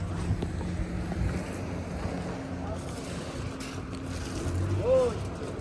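A jet ski, a motorcycle-style boat, runs on the water at Khanpur Dam, its engine droning under wind buffeting and lapping water while people talk nearby.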